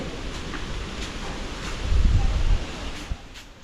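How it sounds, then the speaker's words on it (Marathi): Strong wind pushes through coconut palms during a storm, giving a continuous rushing, rustling roar close to the microphone that swells into a heavier buffeting gust midway. "हे बघा किती वारा आहे बघा"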